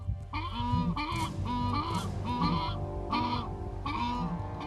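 Deep, booming calls of a southern ground hornbill repeat in a steady rhythm, five or six resonant hooting bursts at moderate volume, with no other voices.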